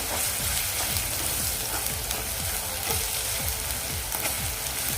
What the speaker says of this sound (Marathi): आता हे आपण व्यवस्थित मिक्स करून घेऊया